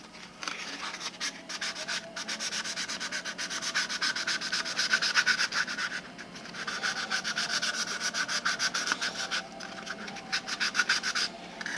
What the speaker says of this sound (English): Sharpen up a piece of brass tubing.